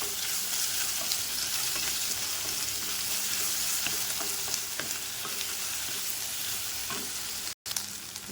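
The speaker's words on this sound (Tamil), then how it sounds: "கடுகு பொரிஞ்சு வச்சு வெங்காயம் போட்டிருக்கிறேன். வெங்காயம் போட்டு நல்லா வதக்கி விடலாம்." Onions sizzle loudly and steadily in hot oil after mustard seeds have popped, for a tomato chutney, with faint stirring scrapes and a momentary dropout near the end.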